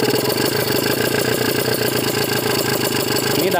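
A Kawasaki Ninja RR engine fitted with a PWK 28 carburetor runs close and loud, a steady, rapid two-stroke burble that holds even for the whole stretch with no voices.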